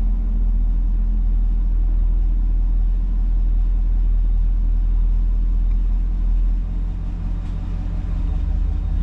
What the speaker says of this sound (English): Immediately the idle changed and everything, so it's performing its reset right there.